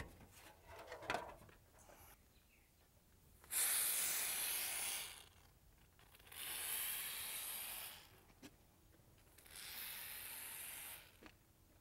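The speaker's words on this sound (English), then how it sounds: "now we're going to apply a ribbon of polyfoam on the back of the universal pan tile" Polyfoam adhesive sprayed in a ribbon onto the back of a universal pan roof tile, with three separate close hissing spray bursts a few seconds each and quiet gaps between them.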